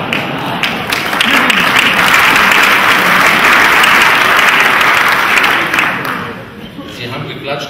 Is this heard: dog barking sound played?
no